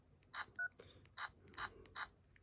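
Keypad dialing tones from a T-Mobile Sidekick phone, about six short, evenly spaced beeps in quick succession, close and clear against a quiet background.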